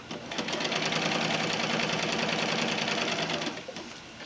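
A sewing machine runs a steady, continuous stitching burst while an underquilt is sewn, close and even-paced, then stops near the end, with no voices.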